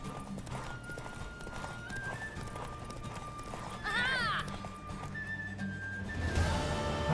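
A horse gallops and neighs in The Witcher 3 video game, with steady clip-clopping hooves, a loud whinny midway and voices talking over the game music.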